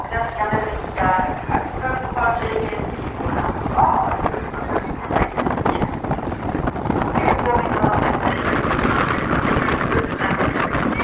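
Strong wind buffets a boat leaving Visby, Gotland, a loud, rough, constant roar with gusty microphone rumble and irregular knocking.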